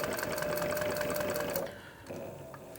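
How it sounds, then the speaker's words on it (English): An industrial sewing machine stitches through leather with a rapid, steady mechanical whir that runs continuously, then slows and briefly stops before a short final burst. "I'm going to sew all the way up to the edge of this piece of leather"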